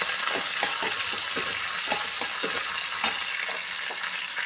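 Onion, cumin, mustard seeds and curry leaves sizzle in hot oil for a tempering, a steady close frying hiss punctuated by regular scraping stirs of a spoon.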